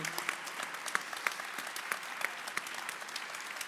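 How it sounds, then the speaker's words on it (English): A crowd at a Holocaust Remembrance Day commemorative program applauds steadily, dense clapping filling the room at moderate volume with a few sharper claps standing out. "Round of applause"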